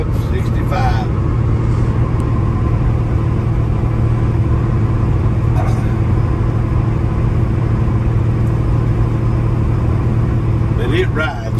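A truck cruises downhill in overdrive at about 65, giving a steady low engine hum and cabin rumble that runs continuously, with a few faint clicks and rattles along the way.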